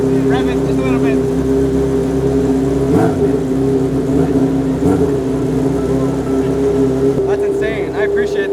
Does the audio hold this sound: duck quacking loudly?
no